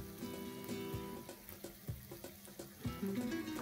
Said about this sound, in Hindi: इसमें जाएगा पानी